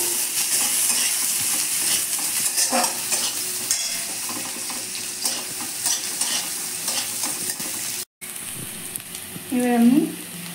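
One large onion fries in a pan and is stirred, giving a loud steady sizzle with scraping strokes from the spoon, a brief dropout near the end and then a louder scraping burst.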